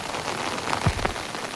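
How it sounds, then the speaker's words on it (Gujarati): Heavy overnight rain falls steadily around a person holding an umbrella, a dense close hiss of drops with no break over the short stretch. "તો ભાઈ વરસાદ વધ્યો છે"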